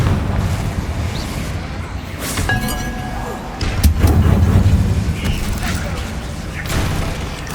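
The Confringo blasting spell goes off in a Harry Potter video game, a booming explosion with thuds and clinks over rumbling game ambience, the loudest burst near the middle.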